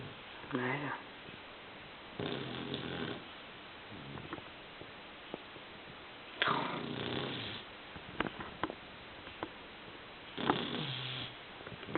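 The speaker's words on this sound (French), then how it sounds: "Pourquoi tu ronfles plus, Agathe?" A small dog snores in repeated, evenly spaced raspy breaths, close and quiet, with soft sniffs between them.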